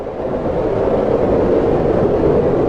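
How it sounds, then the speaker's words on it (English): A very distant tornado during a summer storm, heard as a steady, unbroken low roar of wind-like rumble that fills the whole stretch without letup. "That is the sound of a very distant tornado."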